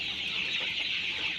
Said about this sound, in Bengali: আমি 2000 পিস কালার বার্ড মুরগির বাচ্চা উঠিয়েছি